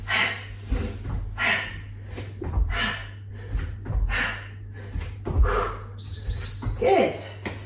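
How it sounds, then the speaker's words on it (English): Noisy, forceful exhales from someone doing jump-and-switch moves in a yoga HIIT cardio workout, repeating as rhythmic breathy bursts over a steady low hum, with a brief high beep near the end. "Keep moving, keep breathing. Nice noisy exhales."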